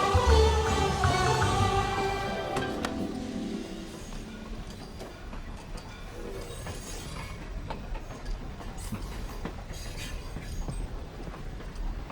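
A train passes with loud rumbling and rhythmic clickety-clack of wheels on rails that fades gradually into a more distant, steady rolling noise, with no voices.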